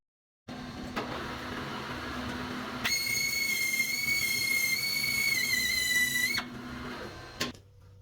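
Lathe parting off a steel tube at 38 mm to make a bushing sleeve for a custom BMW 8HP transmission mount. A steady machining drone runs throughout, with a high, sustained tonal squeal rising over it in the middle stretch, close and fairly loud.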